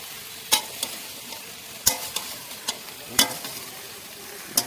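Food frying in a pan while being stirred, a low sizzle punctuated by sharp, regular scrapes of a utensil against the pan, near and distinct.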